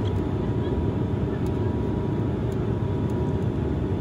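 A propeller aircraft engine running steadily, a dense continuous drone and rumble that stays level throughout, close and loud with no breaks or change in pitch.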